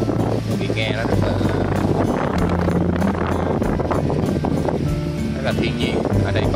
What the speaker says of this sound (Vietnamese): Mà cái tiếng gió cũng là cái tiếng đặc trưng của miền biển